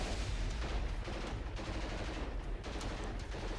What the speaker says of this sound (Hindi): नॉर्थ सीरिया की सड़कों पर जमकर फायरिंग हो रही है